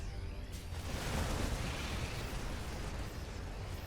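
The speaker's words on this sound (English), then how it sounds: "a couple more shots going off just for the moment there" Dense, rumbling explosions and gunfire from a StarCraft 2 battle roll on continuously, a thick barrage of booms and bursts at moderate volume with no pauses.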